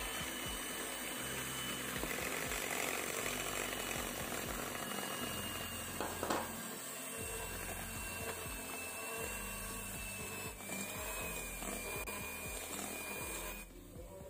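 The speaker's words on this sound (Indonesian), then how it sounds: "Kita mixer menggunakan kecepatan rendah bergantian dengan tepung terigu." Electric mixer running steadily at low speed through pumpkin batter while flour is added, a continuous motor whir with rattling from the bowl, fairly close and alone for the whole stretch.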